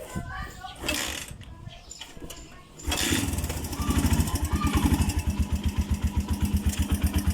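A Suzuki Mola 125 motorcycle engine due for overhaul starts up and runs at a steady idle, close by, with a rapid rhythmic pulsing and a slight ticking.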